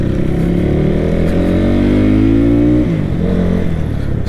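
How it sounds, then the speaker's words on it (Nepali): A motorcycle engine roars loudly and steadily while riding through narrow lanes, its tone rising with acceleration, then dipping and recovering near the end. "यस्तो त लाउड सुनिन्छ होइन बाइकको साउन्ड"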